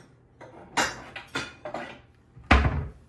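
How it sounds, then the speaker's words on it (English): Ceramic bowls and dishes knock and clatter as one is pulled from a kitchen cupboard, several distinct close thunks ending in a louder clunk, with no talking. "let me grab a bowl"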